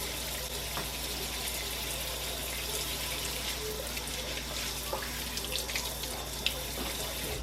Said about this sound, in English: I'm just gonna quickly wash these and then clean the sink